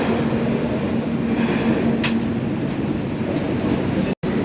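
The Swarnajayanti Superfast Express runs on at speed, heard from inside as a steady, loud, dense rumble of wheels and carriage noise with faint clatter. A brief dropout cuts the sound near the end.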